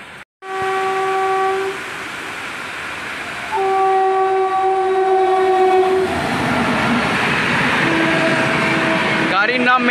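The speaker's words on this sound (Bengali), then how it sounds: "মশাগ্রাম স্টেশন দিয়ে পাস করছে ট্রেনটা।" A late-running passenger train passes Mashagram station on the Bankura–Masagram line, blowing loud sustained horn blasts over the heavy roar and clatter of the train moving past close by.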